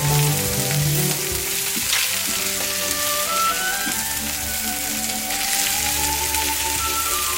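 Newly added ingredients sizzle in the hot centre of a pan beside fish for Italian acqua pazza, a loud steady crackling fry close up, with faint tonal ringing running underneath throughout.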